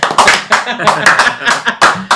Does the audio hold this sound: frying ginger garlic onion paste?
no